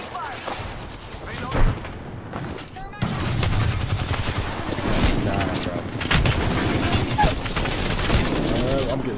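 Gunfire and bursts from a shooter video game, dense and continuous after a brief lull, with a player's voice talking over the shooting throughout.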